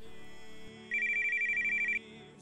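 Electronic phone ringtone in a Minecraft episode, a bright repeating chirpy tone that plays for about a second over a steady background hum, fairly close and clear.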